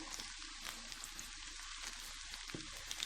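Onions frying in oil in a pan for a hotel-style fish curry, a steady crackling sizzle with small pops throughout, close and continuous with no voices.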